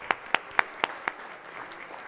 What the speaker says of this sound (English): big round of applause for Martha Vickery.